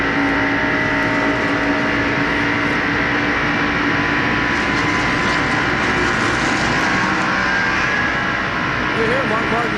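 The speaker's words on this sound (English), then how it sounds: "You hear Mark Martin's car sputtering there on the in-car camera and microphone" A 1989 NASCAR stock car engine, missing a cylinder after being over-revved leaving the pits, drones and sputters loudly close to an in-car microphone, a rough continuous roar with uneven pitch throughout.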